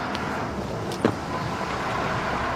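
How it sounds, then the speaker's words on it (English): A bus pulling up on a street, heard as a steady low engine and traffic rumble with a brief door-like clunk partway through, no talking. "Well, it's my bus."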